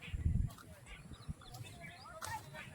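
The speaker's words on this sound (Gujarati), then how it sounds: "અને જો કેવા મસ્ત પંખી બોલે છે" Birds call on a farm, with faint, scattered chirps and short whistles threading through a low outdoor rumble and a few soft bumps.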